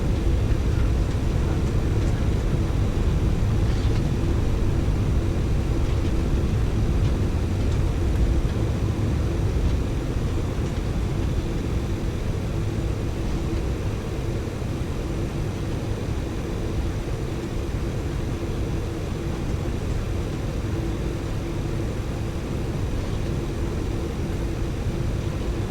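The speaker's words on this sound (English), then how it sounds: "So as we line up on the runway, we're going to take a takeoff 1 config." A simulated Boeing 747-8F lines up on the runway in X-Plane 11, producing a continuous, moderately loud jet engine drone and rushing roar that stays even throughout with no talking.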